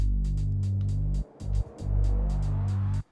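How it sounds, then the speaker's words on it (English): A transition effect in an instrumental remake of Nothing Breaks Like a Heart: a heavy, sustained low tone with rhythmic bright ticks above it, briefly dropping out twice before swelling back, then cutting off abruptly. "FX, this transition FX."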